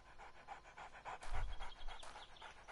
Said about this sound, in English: I've got a pet dog.